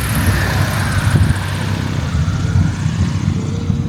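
Steady propeller drone and rumble of a Maule light aircraft landing at an airpark, continuous and fairly loud throughout with slight swells.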